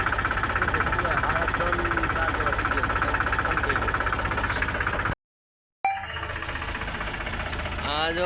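Gujarati-speaking men show off a tractor as its engine idles steadily and loud throughout, pausing briefly in a short silent gap before resuming, with voices talking over the running motor.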